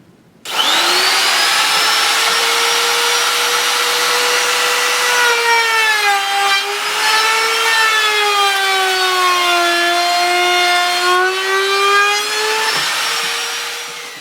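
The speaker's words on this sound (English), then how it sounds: "take the plunger router, turn it on." Plunge router cutting wood for a small egg tray and bookshelf, starting abruptly with a loud high whine that holds steady and shifts pitch as the bit bites through the wood, then tails off near the end.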